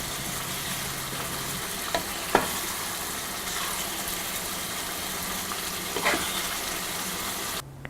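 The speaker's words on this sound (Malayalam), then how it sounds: "ഇത് തിളച്ച ഗ്രേവി ഒന്നുകൂടി തിക്കാവണം" Shrimp pickle gravy of water and vinegar simmers in a pan, a steady close bubbling hiss with a few scraping stirs and clinks, ending abruptly in near silence; no one speaks.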